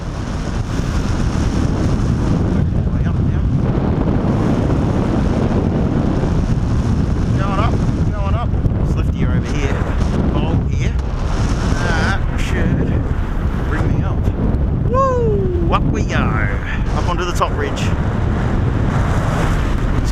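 Strong, steady wind roars and buffets the microphone for the whole stretch while paragliding along a coastal cliff at Star of Greece in South Australia, with a few faint whistling, chirping tones rising through it.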